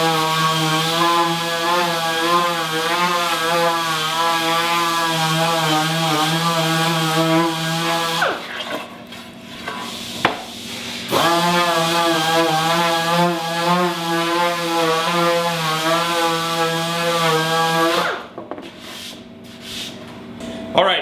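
A power planer shaves the face of a western red cedar board, a loud, steady whining buzz in long passes broken by two short pauses, then stopping near the end.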